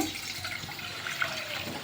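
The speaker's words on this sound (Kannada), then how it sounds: "ಇಲ್ಲಿ ಫಸ್ಟಿಗೆ ನಾವೊಮ್ಮೆ ನೀರು ಹಾಕ್ಲತ್ತಾರ ಇದ್ರಾಗ" Water runs steadily and splashes into a pot for a couple of seconds, a continuous close pouring rush.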